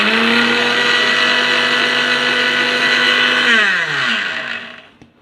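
A mixie, an Indian mixer grinder, whirs loudly and steadily at full speed, then is switched off and its pitch sweeps down as the motor winds to a stop.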